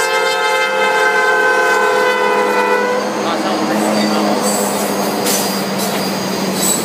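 A Norfolk Southern freight train, the 65R led by NS 1111, sounds a loud, sustained horn for about three seconds, then its rolling wheels and rumble pass close by with faint squeals.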